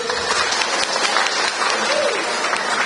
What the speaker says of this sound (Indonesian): Kita berikan aplaus untuk Pak Tatib.